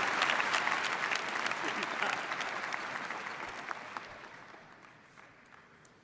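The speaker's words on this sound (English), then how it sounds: "Please, one more round of applause for KCU's newest graduate" Graduation ceremony audience applauding in a large hall, a dense burst of clapping that starts loud and gradually thins and fades over several seconds.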